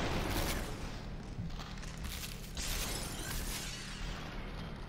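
Bursts of gunfire from the video game Superhot come through a dense, noisy wash of shots and shattering crashes that run steadily the whole time, with no clear pauses.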